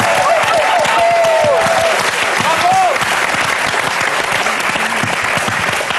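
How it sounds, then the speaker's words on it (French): A studio audience on a French TV comedy show applauds loudly and continuously, with dense clapping and a few cheers. Voices are heard briefly over it. "Jean-Luc Lemoyne au Temple, allez le voir et on l'applaudit."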